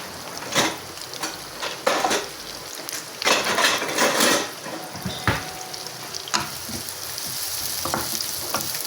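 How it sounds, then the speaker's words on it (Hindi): Onions sizzle and crackle steadily in hot oil for a dhaba-style chicken keema, with sharper bursts and stirring scrapes over a continuous close frying hiss. "ऑयल गर्म हो गया और अब साथ ही हम इसके अंदर प्याज डाल देते हैं"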